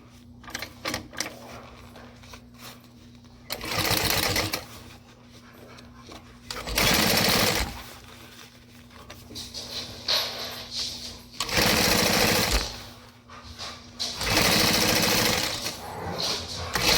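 A sewing machine top stitching a backpack runs in several loud, rapid whirring bursts of a few seconds each, separated by quieter gaps with a low steady hum and small handling sounds.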